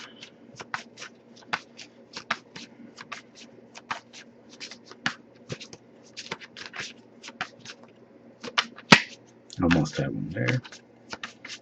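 Rapid, repeated riffling and flicking of tarot cards, fairly close, with a brief spoken remark and some handling noise near the end.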